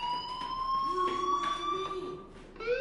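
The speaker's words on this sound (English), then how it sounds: "do you hear that fire alarm?" A fire alarm wails in the school of the video game Life is Strange, a steady electronic tone holding level with rising sweeps near the end, heard indoors at moderate volume without speech.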